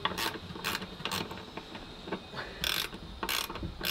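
Long bolts on an anchor davit being tightened with a ratchet, giving several loud bursts of rapid clicking separated by short pauses over a steady background hum.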